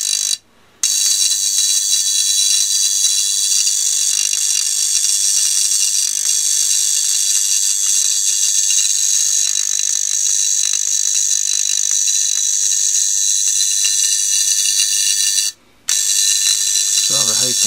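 A spark gap wired with a capacitor and held under a partial vacuum crackles in a loud, continuous rapid buzz that runs almost without a break, cutting out twice for a moment.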